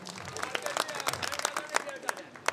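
Scattered applause and hand claps from a crowd at a Gujarati speech gathering, irregular claps spread across the moment with babble of voices underneath.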